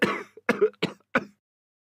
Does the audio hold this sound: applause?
no